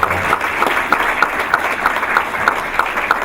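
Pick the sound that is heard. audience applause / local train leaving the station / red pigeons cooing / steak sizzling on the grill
audience applause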